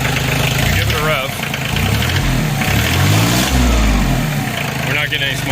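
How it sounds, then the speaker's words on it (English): Kioti CK2610 compact tractor engine running with the hood up, loud and close, its steady rumble swelling into a couple of revs and easing back. "All right, so we've got the tractor running."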